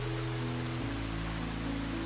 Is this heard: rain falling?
yes